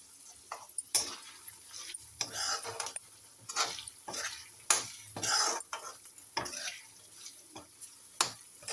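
Green peas fry in a pan while a utensil stirs them, giving repeated scraping strokes in an uneven rhythm over a soft sizzle, close and clear.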